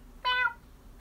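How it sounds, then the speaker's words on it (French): A single cat meow, short and clear, near and fairly loud, with quiet background before and after. "Il y a un chat."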